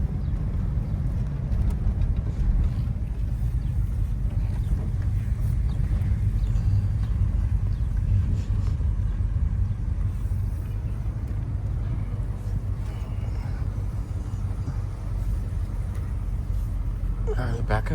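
A 572 big block Camaro engine runs with a steady, heavy low rumble that stays loud and constant throughout, while a person talks over it.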